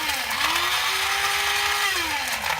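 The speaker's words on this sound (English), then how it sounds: "I just take a little nut grinder or coffee bean grinder, and I just pulse it a little bit" A small electric nut grinder pulses walnuts into meal, giving a loud, steady motor whine that rises and falls in pitch as the blades spin up and slow.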